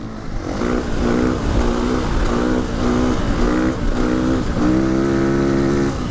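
A Suzuki RFS motorcycle engine while riding, loud and close, revving up in repeated waves as the rider shifts through gears, with steady wind rush around it.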